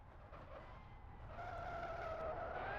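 Tyres squeal in the Live for Speed racing sim as a driver weaves to heat the front tyres, over a steady engine drone. A sustained, rising screech starts partway through and grows louder toward the end.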